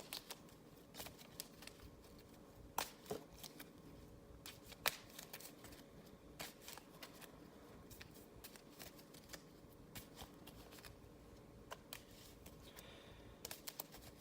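Board game cards for a tabletop wargame are shuffled by hand, a long run of soft, quick riffling clicks and flicks close by, with no talk over it.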